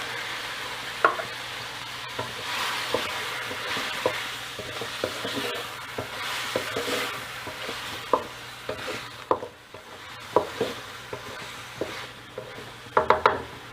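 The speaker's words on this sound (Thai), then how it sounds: "ผัดไปเรื่อย ๆ จนกว่าหมูจะสุกค่ะ" Pork stir-fried in a pan for a Thai long-bean curry-paste dish, with a continuous sizzle and repeated scraping, clacking strokes of a spatula against the pan, close and steady with no talking.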